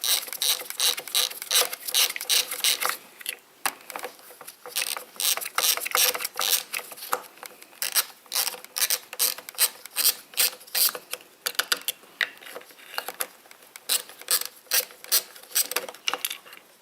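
A socket ratchet clicks rapidly and repeatedly while loosening bolts on a Husqvarna 125B leaf blower carburetor, close and crisp in irregular bursts with short pauses.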